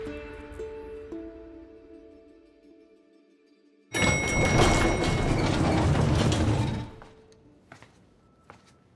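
Elevator machinery in Far Cry 6 grinds into motion with a sudden loud clunk, then a steady heavy mechanical rumble and rattle for about three seconds before winding down, music playing underneath.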